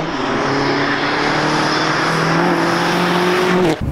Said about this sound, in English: I just love that blow off